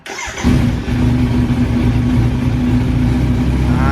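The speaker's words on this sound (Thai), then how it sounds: "ตาร์ทให้ฟังนะครับ" A Kawasaki Z900 SE ABS motorcycle engine cranks briefly and catches, then settles into a steady, close mechanical idle.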